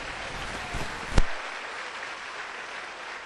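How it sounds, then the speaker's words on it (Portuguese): A church congregation applauds during an evangelical service, a soft, even patter of many hands spread through the room, broken by one sharp close knock partway through. "Se quiser aplaudir, pode aplaudir, é para Jesus"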